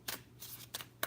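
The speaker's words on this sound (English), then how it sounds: "why am I doing shuffling the tarot cards?" Tarot cards being shuffled, a few quick riffling bursts in close succession, soft and near, with no talking.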